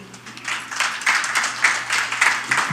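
An audience at a Hindi poetry recital (kavi sammelan) breaks into clapping that comes in uneven surges, moderately loud over a faint steady hum, with no voice over it.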